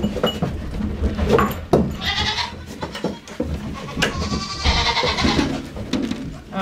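Goats bleat several times, loud and close, in irregular bursts against a busy background of rustling and handling noise.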